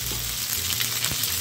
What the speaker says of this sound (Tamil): எண்ணெய் நல்லா காஞ்சதும் கடுகு சோம்பு சேர்த்து தாளிக்கணும்